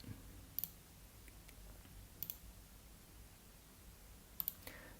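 Three pairs of sharp, quiet computer mouse clicks spaced a couple of seconds apart over a soft background hiss, with no talking.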